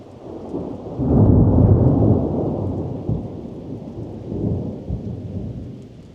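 A thunderstorm rolls through, a deep thunder rumble swelling and fading over a few seconds with a second, softer roll, over steady rain hiss, with no voices.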